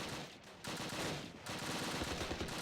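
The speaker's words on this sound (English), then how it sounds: "And we get that MG going. Blaze that out." Machine gun fire in the WWII tactics game Close Combat, set at Arnhem, crackles as a dense, continuous burst of rapid shots with brief dips, loud and steady throughout.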